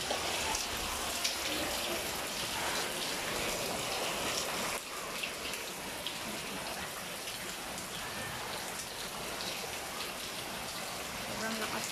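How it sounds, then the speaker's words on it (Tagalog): Fast flood water rushes through Barangay 180 in Pasay City in a strong current, a steady, dense roar of churning water that continues unbroken and fairly close throughout. "Sobrang lakas po ng current ng tubig."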